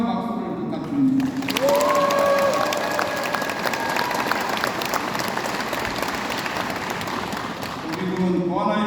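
A hall audience at a provincial governor's town meeting breaks into sustained applause for the governor, a dense wash of clapping and some cheering that swells and holds, with a voice over a loudspeaker at the start and end.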